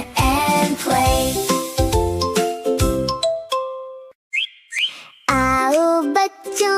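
Cartoon bird chirps and bell-like dings within a Hindi children's nursery rhyme about a cow and a bird, bright tonal tweets over an upbeat jingling melody, with a short gap of softer chirping midway before the music returns.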